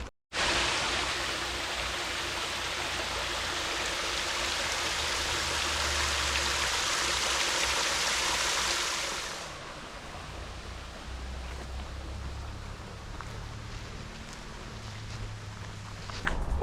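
A stream of flowing water beside an old railway track bed, a loud, steady rushing noise close by for about nine seconds that then drops off to a quieter outdoor background with faint footsteps.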